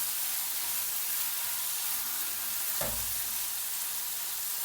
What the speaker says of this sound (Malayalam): ചിക്കൻ ഒന്ന് ഇളക്കി കൊടുക്കണം